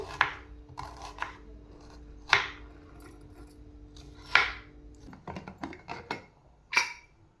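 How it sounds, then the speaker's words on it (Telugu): A knife chops an onion into thin strips on a board in sparse, separate strokes, close and fairly sharp, with short pauses between cuts. "ఈలోపు మనం సన్నగా పొడుగ్గా ఉల్లిగడ్డ కట్ చేసుకుందాం"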